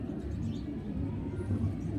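A pigeon kept for sale in Lahore coos in low, soft, continuous murmurs that swell slightly near the end, heard up close with no talking.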